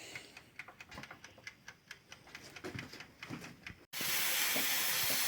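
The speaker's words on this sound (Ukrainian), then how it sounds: "Кипить, шкварчить наше місце, парує, смажиться." Pork neck crackles and pops on a grill with rapid ticking spatters, then a loud, steady hiss of sizzling takes over near the end.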